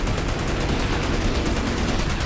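Rapid gunfire in the shooter game Outriders, a dense continuous burst of loud, rattling shots with no pauses.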